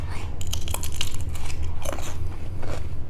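Crisp, close bites into salted cucumber, a cluster of sharp crunches followed by wet chewing, loud and up front.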